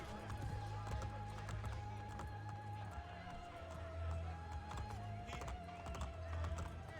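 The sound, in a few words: horse hooves in video game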